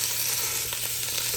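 Ground beef browning in a hot pan, a loud, steady sizzle and crackle of frying meat with no talking, constant and close throughout.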